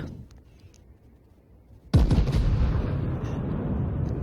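A single heavy shot fires in a naval combat video game scenario. After near silence it lands as a sudden, loud boom that trails off into a long rumbling tail.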